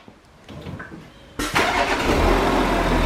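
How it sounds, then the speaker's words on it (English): Audi Q7 3.0 turbo diesel V6 cranks and fires up near the front bumper, a brief whirring crank then a sudden loud catch at about 1.4 seconds that settles into a steady, rumbling diesel idle. "I'm going to fire it up."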